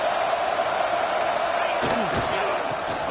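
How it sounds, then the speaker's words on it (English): A stadium crowd in the Madden football video game gives a steady, loud roar throughout, with a brief voice and a short thump partway through. "Listen to the crowd energy here in the early going."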